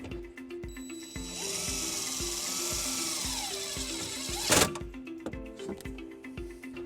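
A power driver with a 1/4-inch socket sinks a self-tapping screw into a 2021 Mazda CX-9 while a trailer wiring harness is grounded, giving a steady high whine with rising pitch and a brief sharp bite near the end.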